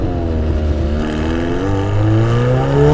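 McLaren 720S supercar accelerating hard, engine note climbing steadily in pitch with a loud, continuous rising roar that briefly dips at a gear change, heard from inside the car.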